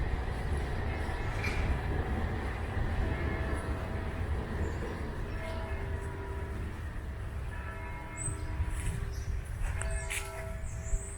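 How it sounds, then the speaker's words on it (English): A tram rumbles past at a distance in Leith, Edinburgh, a low steady roll with metallic squeals and a faint bell-like ring toward the end. "You can maybe hear the tram going by."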